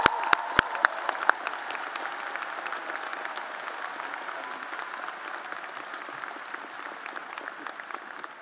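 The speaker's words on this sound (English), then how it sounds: "Let's give them a big round of applause." At a university graduation ceremony, an audience applauds teaching award recipients with steady clapping that starts with a few sharp claps and settles into even, moderately distant applause.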